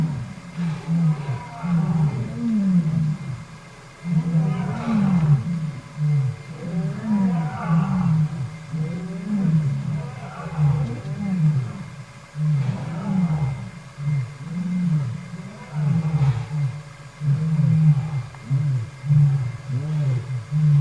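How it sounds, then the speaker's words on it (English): A lion roars repeatedly near a safari camp in Tanzania, loud deep grunting calls in a steady rhythmic series with short pauses, heard alone without talk. "I did turn the camera on so that you could hear the lion."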